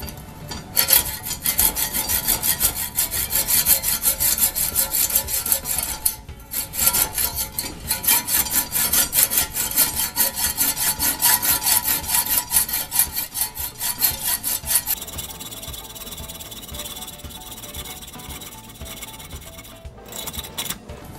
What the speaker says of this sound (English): I'm going to end up having to use my least favorite tool, which is a hacksaw.